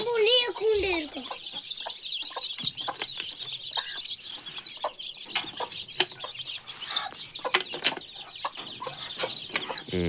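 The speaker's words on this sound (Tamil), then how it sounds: "இந்த தாய் கோழியும் தண்ணி குடிக்க வந்தோடனே குஞ்சுகளும் குடிக்க ஓடி வருது" A mother hen and her chicks gather at a water dish in a coop, with high, rapid peeping from the chicks and soft clucks throughout. A hen calls loudly at the start.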